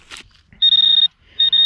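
A metal detector out on a treasure hunt gives steady electronic tones: a brief burst, then a sustained beep of about half a second, followed by another beep after a short pause, loud and close with no talking.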